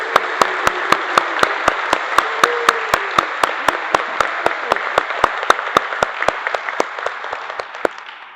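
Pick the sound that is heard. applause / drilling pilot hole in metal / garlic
applause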